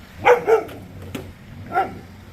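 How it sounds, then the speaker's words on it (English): A dog barks a few times, close by, with sharp separate yaps spaced irregularly over a low steady background hum. "This dog is so annoying."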